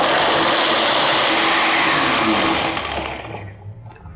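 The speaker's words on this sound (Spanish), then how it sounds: "Se recomienda dejarlo licuar" A blender whirs loudly while blending a cassava cake mixture with soy milk and coconut, a dense steady motor roar that holds for about three seconds and then winds down and fades near the end.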